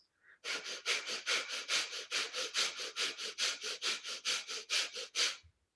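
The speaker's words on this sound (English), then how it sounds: "you can simply close your mouth and take this breath through the nose" A long run of about twenty quick, forceful breaths through the nose with the mouth closed, evenly paced and close up, each a short rushing puff in an energizing breathwork exercise.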